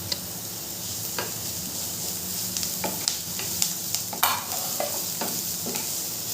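Grated ginger, onion and garlic fry in hot oil for aloo chop, a continuous close sizzle broken by repeated scraping stirs and sharp clicks of the utensil against the pan, with no speech.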